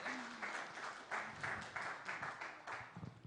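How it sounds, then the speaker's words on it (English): Faint, rhythmic applause from a conference audience at a plenary and closing session, soft clapping in loose pulses, somewhat distant and low in level. "Please give applause to Mrs."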